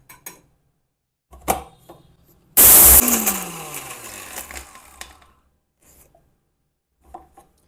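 A kitchen mixer grinder whirs through a pepper spice mix with coriander seeds for pepper chicken biryani, starting with a sudden loud burst that winds down over about two seconds, framed by faint clicks and handling knocks.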